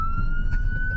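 A siren wails in a loud, steady tone at a rowdy amateur boxing event, with crowd noise rumbling underneath.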